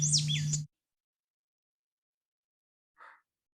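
A pair of birds duetting, male and female parts on a played recording, gives a brief burst of high chirps over a low hum, cut off abruptly, then silence and one short faint chirp.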